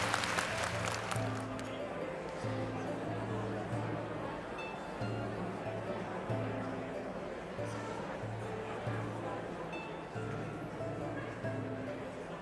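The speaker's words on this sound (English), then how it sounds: "Shh, everyone clap." Steady applause from a crowd of listeners fills the scene at even loudness from start to finish, with a faint hum of chatter underneath.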